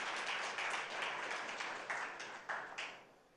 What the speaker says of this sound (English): I think he needs a loud round of applause.